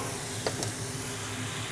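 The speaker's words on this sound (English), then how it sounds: "A little cab sauv to deglaze the pan." Cabernet sauvignon red wine deglazes a hot pan for prime rib au jus, producing a soft, steady hiss of steam close by, with a couple of brief crackles and no voices.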